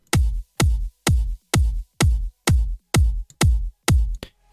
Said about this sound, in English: you can hear that there's some white noise in the background playing as a kick drum.